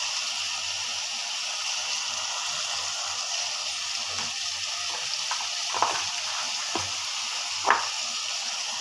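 Tomato prawn curry in the style of Telangana sizzles steadily in a pan, a continuous hiss with occasional soft scrapes and knocks from stirring.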